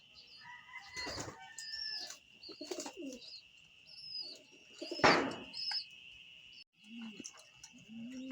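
Young pigeons cooing while drying in the sun, soft repeated coos and a few calls with other birds chirping in the background, fairly quiet and close.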